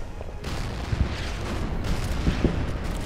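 A torpedo strikes a cruiser in the naval strategy game Order of Battle Pacific, heard as a deep rumbling blast with a few heavy thuds inside a loud, sustained low roar.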